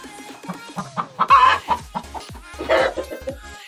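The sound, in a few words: chickens clucking in a coop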